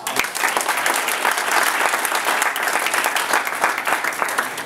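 Audience applause at a real estate investor meetup in New York City, a dense, sustained burst of clapping from a roomful of people that runs steadily throughout with no break.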